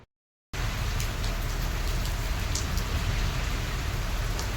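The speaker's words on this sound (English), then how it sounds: "It has started to rain and I'm loving today." Steady rain falls in a dense, even patter close by after a brief silent start. It goes on without a break, with some sharper drop hits on a surface and no voices.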